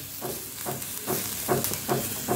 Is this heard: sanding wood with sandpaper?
no